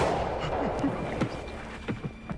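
A gunshot in a war film as a German soldier shoots an older captive soldier from behind, a sharp crack over an ongoing low rumble and scattered impacts, with faint voices underneath.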